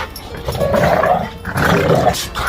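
Two dogs play and growl at each other, close, rough rumbling growls in two sustained bouts with a brief pause between, loud and breathy.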